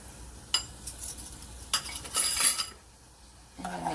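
A spoon stirs and scrapes through thick kimchi paste with brown sugar in a bowl, giving scattered clinks and wet scraping strokes, then a brief gap before more mixing sounds close up.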